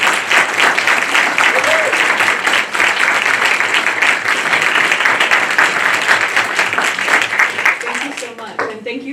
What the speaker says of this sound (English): may I please have a round of MTSU welcome and applause